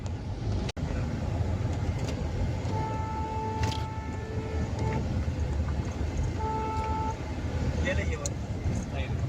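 A car is driven fast, heard as a steady low road rumble from inside the vehicle. Horn toots sound twice along the way, and faint voices can be heard in the background.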